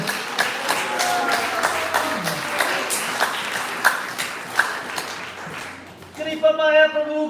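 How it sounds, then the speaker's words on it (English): Applause rings out for a named guest at a Hare Krishna devotee gathering, a long round of crowd clapping with some voices mixed in, before a clear tonal chant or call rises near the end. "Let's give him a long round of applause."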